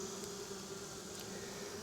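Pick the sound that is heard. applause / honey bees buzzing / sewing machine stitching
honey bees buzzing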